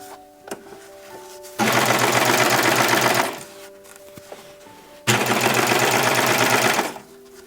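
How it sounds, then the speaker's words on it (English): A serger runs in two steady bursts of about two seconds each, overlocking a fabric seam in brown thread while sewing a pillow. The machine is loud and close, with quiet handling sounds between the runs. "It doesn't bother me to serge this in brown."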